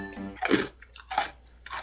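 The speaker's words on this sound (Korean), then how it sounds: "바나나를 씹는데 나면 안 되는 소리가 납니다." A meerkat chews banana close up, giving a few wet, squishy bites and soft crunches in short bursts, with quiet pauses between them and no voices.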